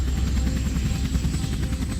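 A military helicopter about to take off, its engine and rotor roaring as a loud, steady, close whir with a constant low rumble and faint rhythmic chop throughout.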